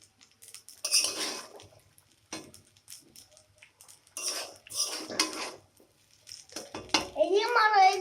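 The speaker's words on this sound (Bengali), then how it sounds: "এই যে হালকা আঁচে দিয়ে এটা আমি আস্তে আস্তে করে নাড়িয়ে নিচ্ছি" Chowmein stirred in a pan over low heat, with intermittent bursts of metal utensil scraping and clinking against the pan, separated by quiet gaps, and a voice near the end.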